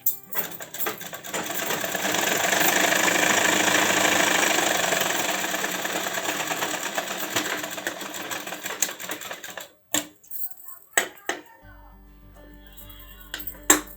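Electric sewing machine running steadily while a sleeve is stitched onto a ready-made kurti, a continuous buzzing drone for about nine seconds before stopping, followed by brief handling clicks and quiet.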